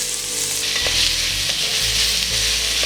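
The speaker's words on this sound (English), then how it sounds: "We are sauteing on medium to high heat because we want to get rid of most of the moisture in the onions" Onions sauté in coconut oil in a pan over medium to high heat, a loud, steady hiss of frying with occasional soft scrapes and stirring, close up and without any talking.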